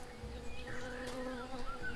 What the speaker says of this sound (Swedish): Nu hörde jag en geting där.